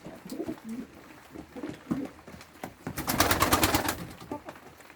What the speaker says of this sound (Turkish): Şimdi kuşlara yem vermeye geldik.